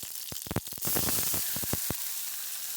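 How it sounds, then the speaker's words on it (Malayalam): Chopped tomatoes hit a hot pan with a loud, steady sizzle that follows a few sharp clicks and clatters, then holds as a continuous hiss. "അതിലോട്ട് ലേശം മുറിച്ച് വെച്ചിട്ടുള്ള തക്കാളി നമ്മൾ അതിലോട്ട് ചേർക്കാൻ പോവുകയാണ്"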